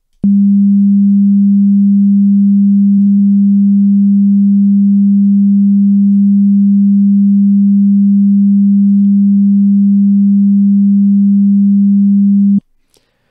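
Steady low sine tone with a saturation plugin toggled on and off, adding subtle low harmonics in two stretches; loud, unbroken and alone, cutting off abruptly at the end.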